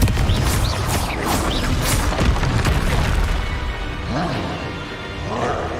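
Explosive spell blasts from the Confringo fire curse in the Hogwarts Legacy video game, a dense run of loud booms and crackling bursts layered with other chaotic combat effects.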